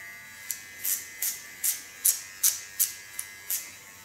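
An electric hair clipper buzzes steadily while cutting short hair, with rhythmic crisp snips as the blade passes through the hair roughly twice a second, close and clear.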